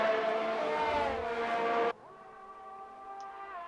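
Race cars overtaking in F1 2021 at the Belgian Grand Prix, a loud, high engine whine that cuts off abruptly halfway through, leaving a quieter, steadier engine drone.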